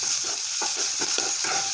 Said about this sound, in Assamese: এতিয়া মই চিকেনখিনি দি ল'ম